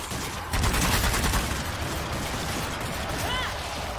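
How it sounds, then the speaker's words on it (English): Rapid gunfire sprays at zombies in Zombie War 4 Dead War, dense loud bursts of shots running continuously over the whole stretch with heavy background game noise. "I'm shooting all the zombies"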